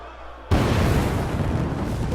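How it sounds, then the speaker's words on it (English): Sudden loud boom of an explosion in a wrestling entrance sequence, bursting in after a quiet moment and then sustaining as a dense roaring rumble that slowly fades. "He just walks past the explosion in slow motion."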